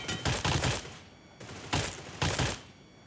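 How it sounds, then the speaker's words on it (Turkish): Automatic gunfire from a magazine being emptied in PUBG Mobile: several loud, rapid bursts of shots separated by brief pauses, with no voices. "Bekle şuna bir şarjör boşaltacağım şuna"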